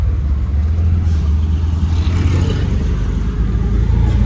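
Inside an auto-rickshaw on a Konkan road near Dapoli, a loud, low engine drone runs steadily throughout with faint rattling and no talk.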